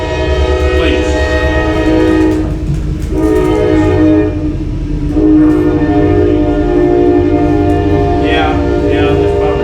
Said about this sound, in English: Let's pause while the train is going by, please.